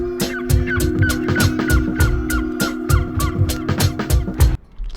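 A repeated chirping bird call in an electronic track rides over a thumping beat and sustained synth drone, recurring rhythmically before the music cuts off abruptly.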